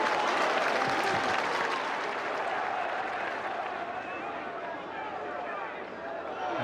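A football crowd at a Watford match roars and applauds in a dense, continuous wash of clapping and cheering that eases slightly over time.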